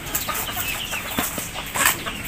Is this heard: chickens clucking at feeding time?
yes